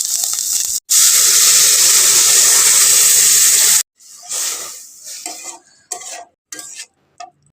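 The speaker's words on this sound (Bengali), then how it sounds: "মাছের ডিমটাকে আমি মশলা দিয়ে ভালো করে কষিয়ে নেব।" Fish roe fries with spices in a pan, a loud hissing sizzle under vigorous stirring that stops abruptly, followed by intermittent scraping and spoon clatter with short bursts of sizzling.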